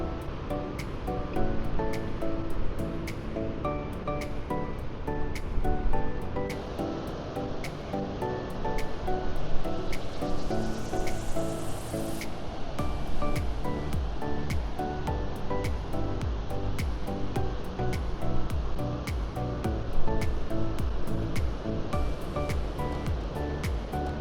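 Ocean surf at Strahan, Tasmania rolls and washes in a steady roar, with faint clicking and rustling layered over the continuous wash of several breaking waves.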